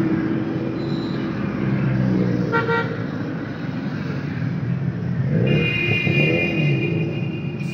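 Car traffic moves through a big city, with engines rumbling steadily, vehicles passing close by and a couple of short horn toots.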